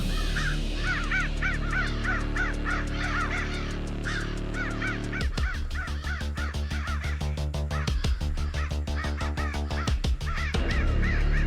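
Crows caw again and again in a forest, harsh repeated calls standing out over a steady background; about halfway through, a strong rhythmic pulsing sound joins them and continues to the end.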